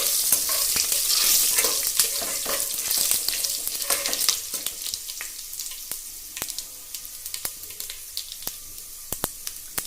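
Byadagi and Guntur red chillies fry in oil in a pan for bisi bele bath, giving a bright sizzle that is strongest at first and then fades. Close, sharp clicks from a stirring spoon scraping the pan cut through it.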